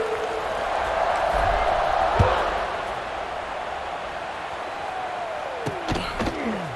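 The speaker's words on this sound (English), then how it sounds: "this crowd is buzzing after that last score." A stadium crowd in the College Football 26 video game keeps up a steady, loud buzz during a Rice Owls versus Houston Cougars game after a score, with a few thumps and brief tones rising above the wash.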